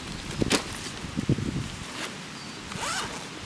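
Zipper on a Lowe Alpine TFX Kongur 65:75 backpack's internal pocket, pulled in a few quick, close rasping strokes near the start and then going quiet.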